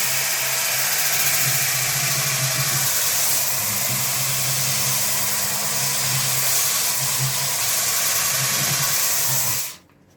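A Maxstar polishing machine hums steadily at a constant pitch for about ten seconds, then stops abruptly.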